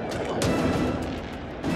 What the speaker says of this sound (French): des individus cagoulés lancent des fumigènes et des fusées de feux d'artifice en direction des tribunes